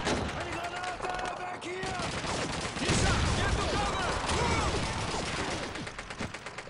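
A gun fires in rapid, close, loud bursts during a Call of Duty 2 match. The cracks repeat in quick volleys over a noisy battlefield backdrop, and a voice is faintly audible early on.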